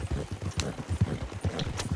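Horse hooves clip-clop steadily while pulling a canopied cart during a winter endurance race in Red Dead Redemption 2, a continuous rhythmic trot of close, moderately loud hoof falls with no talk over it.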